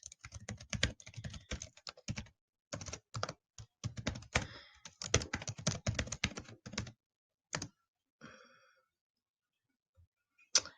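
Login details being typed on a computer keyboard for a food listing site account: long runs of rapid, close key clicks with brief pauses, ending in a few sparse taps.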